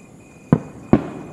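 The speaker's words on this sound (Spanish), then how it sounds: "The fireworks." Two sharp fireworks bursts, about half a second apart, each a loud, close boom that quickly fades with no other sound around them.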